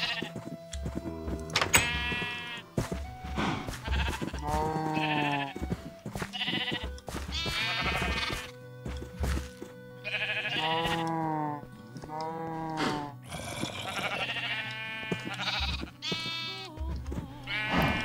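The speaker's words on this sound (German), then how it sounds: "Nee, hier ist nur ein Schaf." Repeated sheep bleats from the video game Minecraft, a string of harmonic baas spread across the stretch, fairly close and clear over soft game background noise, with no talking.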